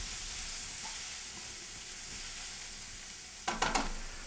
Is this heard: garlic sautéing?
yes